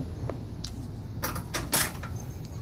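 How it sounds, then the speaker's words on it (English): An indoor door is opened during a service dog training session, giving a few scattered clicks and knocks of the handle and latch, with a louder clack near the end and low room hum underneath. "This door is tricky with a phone."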